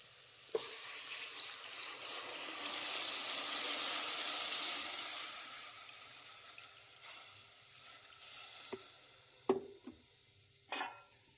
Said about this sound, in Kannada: ಚಿಕನ್ ಮುಳುಗೋಷ್ಟು ಮಾತ್ರ ಬಿಸಿನೀರು ಹಾಕ್ಕೊಳ್ತೇನೆ